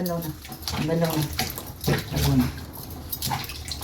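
Water pours and splashes into a tub while a dog is being bathed, with people talking over the running water and a dog whimpering at moments.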